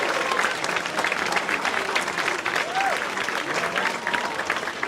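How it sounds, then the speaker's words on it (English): An audience at an evening comedy show claps steadily and warmly throughout, a dense, sustained round of applause from a small crowd with a few faint voices mixed in. "Give a round of applause to everyone who got up here tonight."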